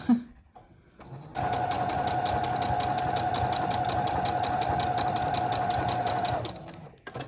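A quiet domestic sewing machine stitches a curved seam on a doll's nightgown. Its close, steady hum starts after a moment of near silence, runs evenly for about five seconds, then stops.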